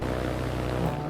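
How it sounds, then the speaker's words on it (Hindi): A video game helicopter's rotor hums steadily in a dense, continuous drone with throbbing low pulses, close and even, with no talk over it. "तो हम हेलीकॉप्टर में बैठते हैं"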